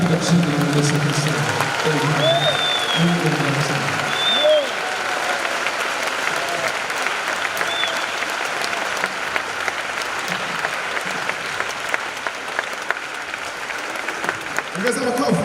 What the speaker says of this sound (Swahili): Ongeza makofi, ongeza makofi kwa Yesu.